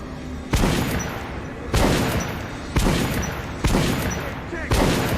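Loud gunshots from a firing range in Metro Last Light ring out at a steady pace, five sharp blasts about a second apart, each trailing into a booming echo.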